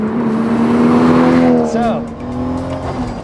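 Toyota Cresta Tourer V JZX90 driving, its engine a loud steady hum that rises and eases back, with a brief tire-like squeal midway and a short spoken word.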